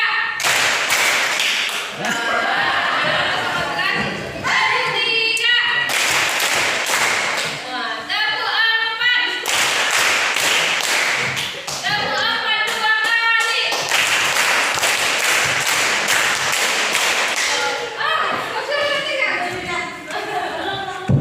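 A class of high school students claps in counted patterns. Loud, sharp bursts of group clapping alternate with short spoken counts, so the clapping comes in several distinct rounds separated by brief talk.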